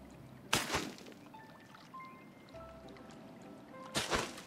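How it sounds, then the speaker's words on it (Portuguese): Water poured over freshly planted crops in the farming game Pathless Woods, two short splashy bursts about three seconds apart, each with a trickling tail, over quiet soft game ambience and faint tonal chimes. "Jogar uma água aqui, né?"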